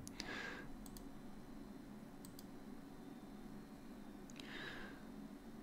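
Computer mouse clicking on a menu option, a few soft, close ticks spread over several seconds against a faint steady background hiss.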